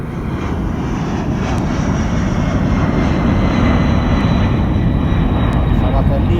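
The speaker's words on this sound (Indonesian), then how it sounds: "Pesawat TNI." An Indonesian military (TNI) airplane passes overhead, making a loud, continuous engine roar that stays steady and close for several seconds, with voices mixed in underneath.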